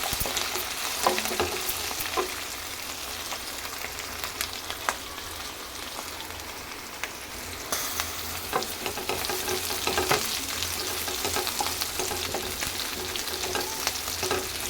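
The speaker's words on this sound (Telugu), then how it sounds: "కలుపుతూ ఉండాలి, మనకు త్వరగా కర్రీ తయారవుతుంది అన్నమాట." Capsicum masala curry sizzles and fries steadily in a kadai, with a constant crackling hiss broken by the occasional scrape and clack of stirring.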